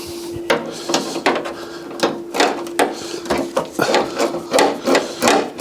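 A 10mm spanner works a bolt loose on a crashed 2011 Fiat 500 Lounge, giving a string of close, rhythmic scraping and ratcheting strokes with no talk.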